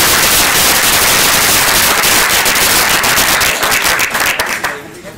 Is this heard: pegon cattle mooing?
no